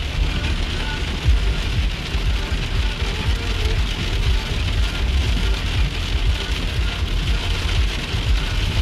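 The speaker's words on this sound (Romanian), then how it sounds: "Uitați ce plouă, las că nu e problemă." Steady rain in Iași patters and hisses on a hard surface, a dense continuous wash of drops with a low rumble underneath and no clear speech.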